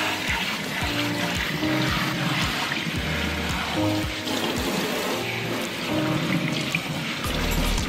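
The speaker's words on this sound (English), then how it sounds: "So I'm just saturating his hair with the water." Water poured over a toddler's hair while it is being saturated, a close splashing trickle running unevenly throughout, with soft low thuds and small movements around it.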